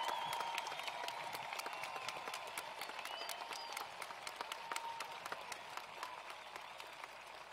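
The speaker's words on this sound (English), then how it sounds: "Please give them a round of applause." A crowd at a high school commencement applauds the graduating Class of 2021, loud continuous clapping with crisp individual claps and faint crowd murmur, steady from start to finish.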